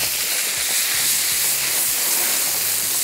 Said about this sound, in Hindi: बॉयल आ गया, चूल्हा बंद कर देंगे।